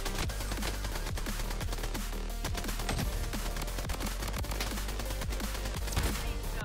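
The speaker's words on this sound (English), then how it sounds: "Who's shooting me?" Dense, rapid gunfire from the Bloodstrike shooter game rattles nonstop, with overlapping automatic bursts and sharp single shots crowding together at close range, loud and continuous without a break.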